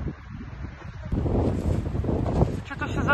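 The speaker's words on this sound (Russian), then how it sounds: "Ветер вообще просто мощно." Strong winter wind blows outdoors in Vyborg, rumbling and buffeting across the microphone in loud, gusting waves, with a brief voice at the end.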